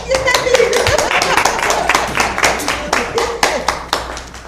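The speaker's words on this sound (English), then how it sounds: "Are they clapping for me?" A few people clapping at a city council meeting, distinct, close hand claps in an uneven rhythm for several seconds, growing sparser toward the end, with faint room murmur behind.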